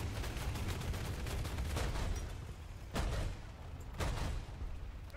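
Tank cannon fire in War Thunder, with heavy shots cracking out at roughly one-second intervals over a constant rumbling engine and battle din, fairly quiet overall and without speech.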